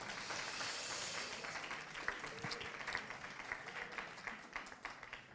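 Audience applause at an architecture conference, a dense, steady roar of many hands clapping that thins toward the end into more distinct individual claps.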